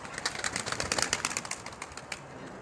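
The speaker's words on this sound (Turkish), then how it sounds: "Kanat sesini duymuşsunuzdur." A blue Arkatepe pigeon flaps its wings in flight nearby, a rapid train of dry, rhythmic wingbeats that swells and fades over a few seconds, with no voices.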